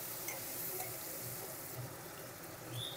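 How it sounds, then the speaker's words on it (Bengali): Tomatoes frying with salt in a pan for a Bengali jackfruit curry, a steady soft sizzle with light stirring scrapes, alone and without talk. "দিয়ে টমেটোটা একটু ভালো করে ভেজে নেব।"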